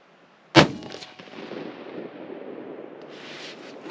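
A single sharp rifle shot is fired at a 100 yard target, loud and close, followed by a brief echoing decay and quiet outdoor ambience.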